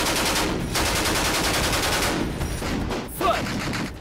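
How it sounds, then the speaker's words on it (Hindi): Continuous machine gun fire in a dubbed Hollywood war action movie: loud, dense rapid bursts of gunshots with short pauses, filling the scene with harsh crackling reports. "यहाँ पर कंटिन्यू मशीन गन की फायरिंग हो रही है।"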